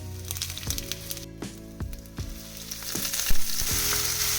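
Chopped vegetables frying in a pan with garlic and ginger give a steady crackling sizzle, broken by repeated sharp clicks and scrapes of a spoon stirring, close and moderately loud, with no voices.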